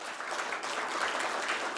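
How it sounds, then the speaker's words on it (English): A crowd applauds at the Altigreen electric vehicle dealer conference, with steady, dense clapping that continues evenly and stays moderately loud for the whole short stretch. "Let's start this wonderful, spectacular, very special day with a huge round of applause"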